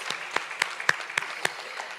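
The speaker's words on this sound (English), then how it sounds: "Let us give the Executive Mayor another hand of applause." A handful of sparse, separate hand claps ring out at a bursary ceremony, about six evenly spaced claps, fairly faint, with no dense crowd behind them.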